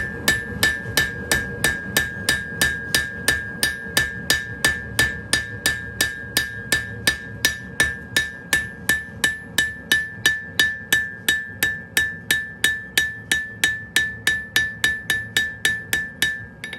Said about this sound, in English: just using the rounding hammer, just kind of hit on that end, kind of work it to the sides